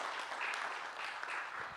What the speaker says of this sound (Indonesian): Kita berikan tepuk tangan untuk acara hari ini sekali lagi Bapak Ibu.